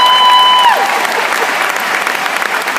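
An audience claps loudly and steadily, a dense burst of applause from a crowd; a brief high electronic tone sounds at the start.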